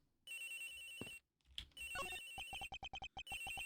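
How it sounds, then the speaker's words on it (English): A phone ringing in the video game Ace Attorney Investigations, a bright electronic ringtone that sustains, drops out briefly, then returns as a rapid series of repeated pulses; no voices. "The ringing's coming from somewhere in here, sir."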